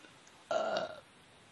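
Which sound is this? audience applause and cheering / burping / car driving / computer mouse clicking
burping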